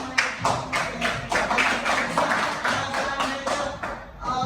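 Classroom applause for a student, a burst of many hands clapping in uneven rhythm for about four seconds, fairly close and loud, then tapering off.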